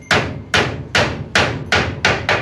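Nails being hammered during house construction, six sharp, loud strikes in an even rhythm about half a second apart, each ringing briefly before the next blow, close by with no talk.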